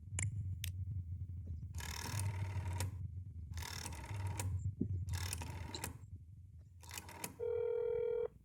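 A telephone rings in the video game That's Not My Neighbor, with several rattling bursts separated by short pauses and a steady electronic tone at the end, loud and close and with no talking.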